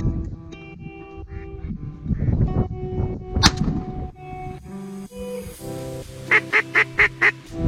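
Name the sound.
ducks calling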